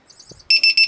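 A battery voltage gauge plugged into a balance port gives three loud, high-pitched electronic beeps in a steady rhythm after a few faint handling noises.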